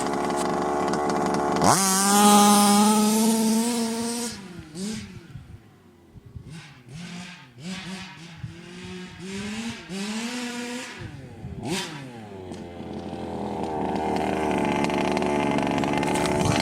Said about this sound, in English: Do not leave your Baja on the shelf for too long.